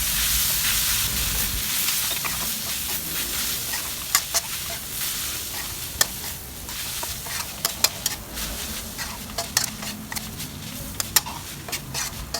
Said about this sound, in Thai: จากนั้นก็ทำการผัดต่อค่ะ ผัดคลุกเคล้านะคะ